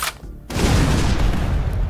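An airstrike weapon in ShellShock Live detonates after a short quiet gap, a sudden heavy blast that opens into a dense, rumbling barrage of explosions sustained loudly to the end.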